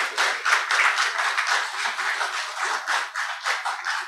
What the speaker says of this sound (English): let's have another round of applause for Ellen Piccolo